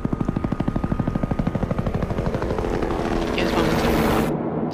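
Futuristic sci-fi helicopter in the stealth video game Hitman Absolution, a rapid rhythmic rotor chopping loud and close, building into a dense roaring whine before cutting off abruptly near the end.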